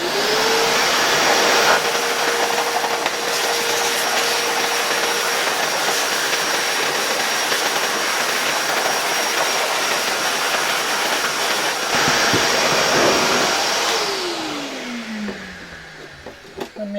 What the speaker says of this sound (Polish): Teraz będzie działało jak klasyczny odkurzacz.